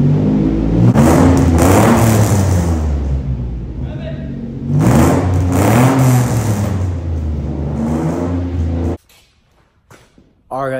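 A 1990 Nissan 300ZX fitted with a custom exhaust revs up loudly and close, two long rising and falling engine pulls, before cutting to near silence with a brief final burst.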